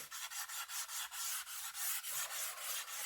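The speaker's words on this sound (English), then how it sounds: "We're just basically just trying to smooth out the lines now in which we created with the rougher sandpaper." Fine sandpaper rubbing over the hull of a model HMS Queen Elizabeth ship, a quick even rhythm of about a dozen close, soft rasping strokes with no voices.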